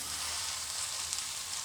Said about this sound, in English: You can see the masalas are all getting roasted.